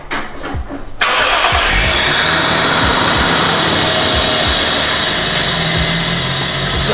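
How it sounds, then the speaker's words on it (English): A twin-turbo 1JZ car engine with a new downpipe cranks and roars to life after about a second, then settles into a loud, rough idle close by. "So I'm gonna start this thing up."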